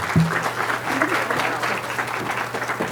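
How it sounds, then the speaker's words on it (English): Audience applause welcoming guest speakers at a nursing orientation: steady, dense clapping from a sizeable crowd filling the room, with a brief low voice near the start. "can we just go ahead and give them a warm welcome and a round of applause?"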